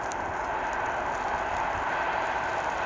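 A steady, broad rumble of a train rolling by at a distance, continuous and even throughout with no voices.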